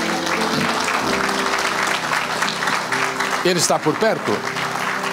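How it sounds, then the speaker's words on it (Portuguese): A church congregation claps in praise, with dense applause running under a voice that speaks briefly near the end, plus some tonal background sound. "Os irmãos querem oferecer um aplauso a Deus pela vida dele?"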